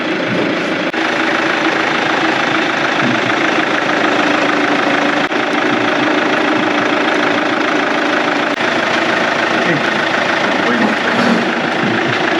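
A steady car engine idle drones on evenly throughout, close and loud, with a low rumble and no clear change in pitch; the engine is not yet fully warmed up.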